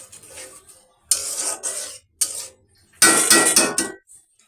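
Spices stir-fried in a pan before fish is added: three bursts of metal utensil scraping and clinking against cookware, the last one loudest and longest, with quiet gaps between.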